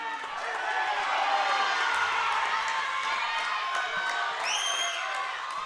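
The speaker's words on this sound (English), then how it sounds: "The father leads the war cry." A family war cry led by the father rises with general crowd cheering at a heavyweight women's powerlifting competition, a sustained chorus of shouting voices filling the venue, with a brief whistle-like whoop near the end.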